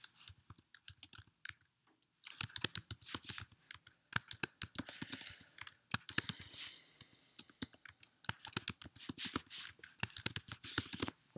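Computer keyboard typing while text is entered into a Google Slides presentation, bursts of quick clicking keystrokes at close range with short pauses between runs, no talking.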